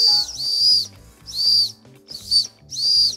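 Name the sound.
whistle built into a tactical pen being blown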